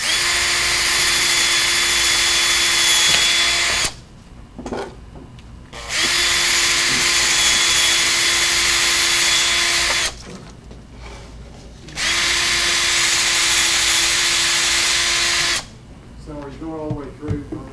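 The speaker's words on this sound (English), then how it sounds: "So now I'm gonna drill the three holes." A power drill bores three holes through wood for a three-string panjo, three long steady whining bursts separated by short pauses where a voice talks briefly.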